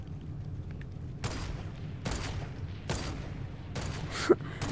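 Gunshots in the video game Fortnite, several sharp separate bursts spaced about a second apart, moderately loud against a low steady game background.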